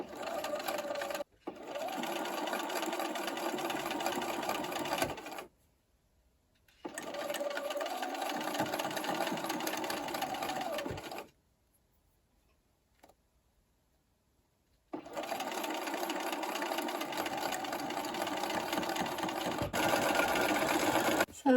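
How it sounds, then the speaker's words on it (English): A sewing machine stitches a crocheted granny square runner in three steady bursts of rapid, even whirring, with short silent pauses between them and no talk. "I didn't seem to have a problem when I sewed"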